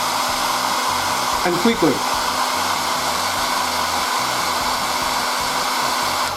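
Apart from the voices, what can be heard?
hair dryer drying primer on resin model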